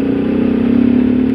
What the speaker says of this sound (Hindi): आवाज़ आएगी तो बाइक की